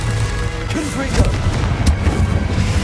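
The Confringo explosion spell in Hogwarts Legacy sets off deep, rumbling booms and crashing blasts that continue loud and close for the whole moment, with no pause.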